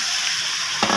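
Turmeric, chilli and salt fry in a pan for a pabda fish bhuna, making a brief, bright hiss with a slightly louder stirring scrape near the end.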